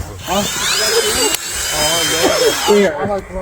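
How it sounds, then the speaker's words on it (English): A power drill boring tap holes in trees at a family maple farm whirs steadily in loud, rising and falling bursts, close by, with voices in the background. "It's a drill, by the way."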